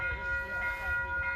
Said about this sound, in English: This is a regular Poughkeepsie Grand Central train that will stop here.